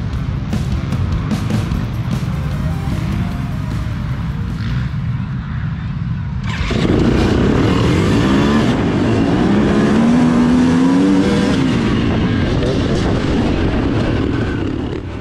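Off-road motorcycles at the start of an AMA hare scramble race in Muskegon, Michigan, a dense roar of engines that swells into louder revving and accelerating as the pack launches, close and continuous throughout.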